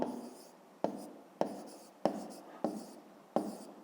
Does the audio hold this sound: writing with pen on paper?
yes